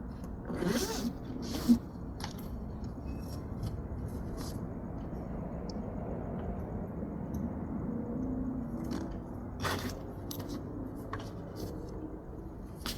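Zippers are pulled closed on a leather seat cover kit for a Nissan Titan truck seat, giving short scratchy zips and rubbing rustles in quiet intermittent bursts, with no voice.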